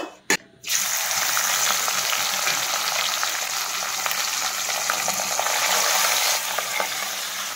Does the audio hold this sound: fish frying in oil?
yes